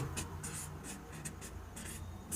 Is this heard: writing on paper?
yes